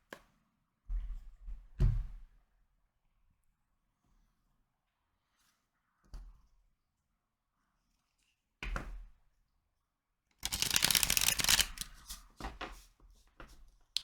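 Rider-Waite tarot cards being handled and shuffled on a table, several sparse soft taps and riffles, then a dense burst of rapid riffling shuffles near the end.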